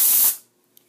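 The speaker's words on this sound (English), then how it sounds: "Or I could add extreme heat and get steam." A short burst of hissing steam from water under extreme heat, loud and bright for a moment before quickly fading to silence, followed by a tiny faint tick.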